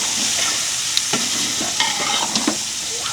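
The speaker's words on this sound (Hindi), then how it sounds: "ये जी अब इसको मारेंगे चम्मच मारेंगे, ये जी देखिए इसको अच्छी तरह से मिक्स करेंगे मसाले के अंदर" A spoon stirs and scrapes food into masala in a pot on a Pakistani village kitchen fire. Clinks and scrapes come in a loose rhythm over a steady background sizzle, close and fairly loud, with no talking.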